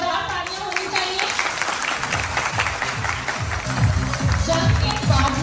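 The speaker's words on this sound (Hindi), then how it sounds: "इन बच्चों के लिए जोरदार तालियां होनी चाहिए" Applause for children at a school graduation ceremony, a steady wash of clapping from a crowd with voices mixed underneath throughout.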